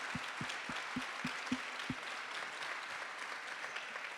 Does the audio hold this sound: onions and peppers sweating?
no